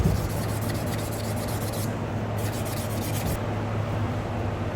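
Hand-sanding a part from a 1992 Dodge Cummins drivetrain smooth with 400-grit sandpaper, a steady close rasping rub with brief rhythmic strokes, no talk.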